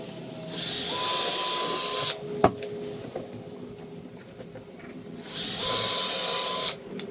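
A power drill whirs in two sustained bursts, each about a second and a half long, as it drives a screw into a workbench, with a sharp knock and quieter shuffling between the runs.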